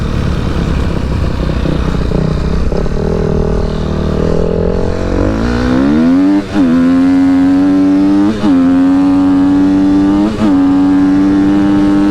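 A 2012 fuel-injected KTM SXF 250 motorcycle with electric starter and six-speed gearbox accelerates while riding, loud and close, the engine note rising steadily and dropping briefly at each of several gear changes.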